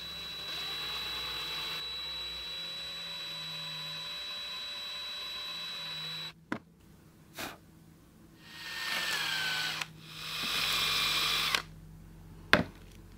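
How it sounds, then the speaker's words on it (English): A small drill bit boring holes into a fragile eggshell for a resin craft project, with a few short bursts of high whirring drilling separated by pauses and small clicks, close and moderately loud. "I'm going to take my drill bit and I'm going to drill 3 or 4 holes around the outside here"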